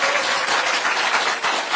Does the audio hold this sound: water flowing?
no